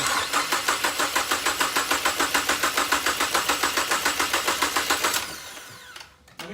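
A Ford EcoBoost engine with a freshly replaced head gasket and ARP head studs cranks in a steady rapid rhythm for about five seconds, then catches and settles briefly, loud and close with no talking.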